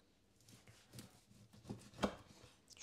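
Cold, chilled roast pork being cut into thin slices with a knife, several crisp chopping knocks against a board that grow louder toward the end, close up and with no talking.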